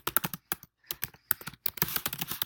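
Computer keyboard typing in quick bursts of crisp, close key clicks with short pauses between runs, loud and alone.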